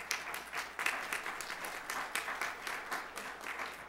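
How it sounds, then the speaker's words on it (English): A Baptist church congregation at a Sunday service applauds to welcome someone back, a soft, sustained patter of many hands clapping at a distance. "let's applaud him back."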